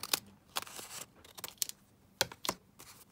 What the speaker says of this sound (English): So I'm going to trim it down across the edge.